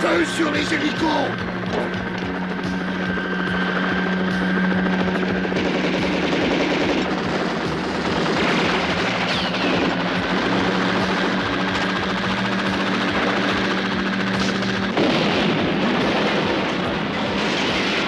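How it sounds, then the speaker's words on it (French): Action-film battle effects: rapid machine-gun bursts rattle over the drone of helicopters, with shouted voices breaking in amid the din. "Feu sur les hélicos!"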